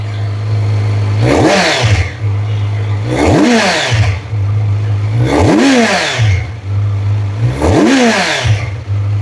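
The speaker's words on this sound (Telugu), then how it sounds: "సో ఇప్పుడు మనం ఒక్కసారి రెవ్విద్దాం" A stock-exhaust 2026 Kawasaki Z900 inline-four engine, revved four times in an even rhythm from a steady idle. Each rev swells quickly to a loud rising howl and falls back, up close with no talking.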